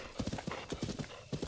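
Horse in The Legend of Zelda: Breath of the Wild, a quick run of close, rhythmic hoofbeats clip-clopping, with a faint whinny-like tone and light voice mixed in.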